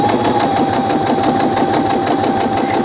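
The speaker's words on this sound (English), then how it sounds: "I'm going to lower my presser foot," A domestic sewing machine stitches scrap fabric with the foot pedal held down, making a loud, steady, rapid mechanical chatter with a constant motor hum throughout and no voices.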